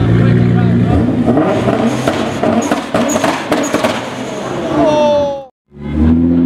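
A Liberty Walk wide-body Nissan GT-R engine revs loudly close by, with roaring, rising throttle bursts over crowd chatter, followed by a brief drop to near silence and then more engine noise.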